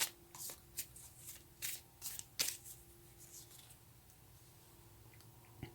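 Tarot cards being shuffled and drawn by hand during a reading, a series of soft papery flicks and riffles in irregular bursts, close and fairly quiet, with a low steady hum underneath.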